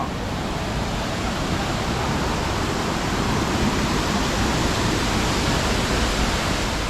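Tad Lae waterfall in Udomxai, Laos, pours with a constant dense roar of falling water, loud and unbroken throughout.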